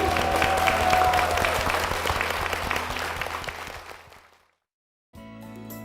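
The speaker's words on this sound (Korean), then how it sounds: "영광의 박수 올려드리겠습니다." A church congregation at Gwangju Sarang Church bursts into loud, dense applause that gradually thins and fades to silence, followed after a short gap by a different steady sound.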